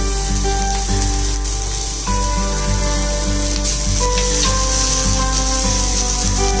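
Chopped chili, garlic and ginger sizzle and fry loudly in a hot pan, a constant crackling hiss with a steady hum underneath.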